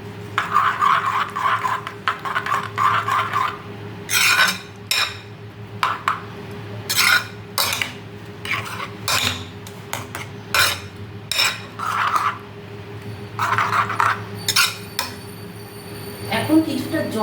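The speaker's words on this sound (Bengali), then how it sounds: "ভালো করে মিশিয়ে নেব।" A spoon scrapes and clinks against a pan as food is stirred and mixed, loud close bursts of scraping in irregular bouts over a steady background hum.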